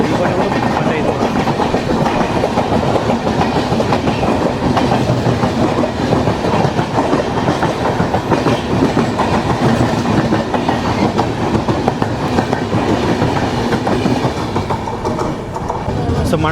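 Prashanti Express passenger train running steadily after departing Srikakulam Road, a continuous loud rumble with rhythmic wheel clatter on the rails throughout.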